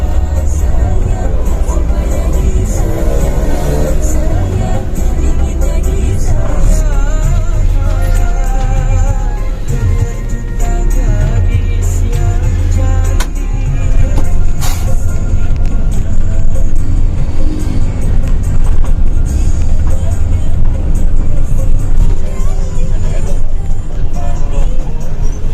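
A Budiman intercity bus runs at night. Heard from inside the cabin, the engine drones loud and steady with a deep rumble and road noise throughout, and there are faint murmurs of passengers in the background.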